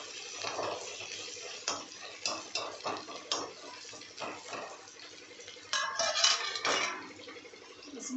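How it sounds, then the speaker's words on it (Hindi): A spoon stirring mushroom curry in a metal pan, with repeated scraping and clinking strokes and a faint sizzle, heard alone at moderate volume. "देखिए इसको चला रहा है इसी तरह से।"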